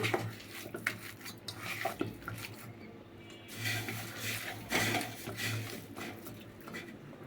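Chicken is mixed by hand for chicken cheese balls in a bowl, making soft, wet, irregular stirring and scraping sounds with occasional clinks of utensils against the dish, close and moderately quiet.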